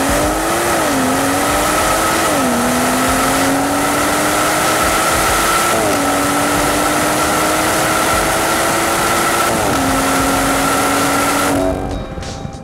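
A 2018 BMW M240i xDrive driving on public roads, engine note rising through the gears with several distinct upshifts where the pitch drops and climbs again, loud and close, before cutting off abruptly near the end; no voices.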